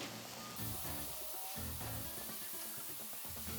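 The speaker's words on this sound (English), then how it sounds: "It's sizzling, so we should be good to go." Chicken strips sizzle steadily on a hot grill for fajitas, a dense continuous crackle and hiss heard up close, with some clatter and no talking.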